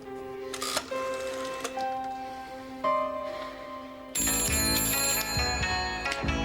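A police station telephone rings in sharp repeated bursts of bright trilling tones, with a louder, fuller ringing layer taking over in the final couple of seconds; no one speaks.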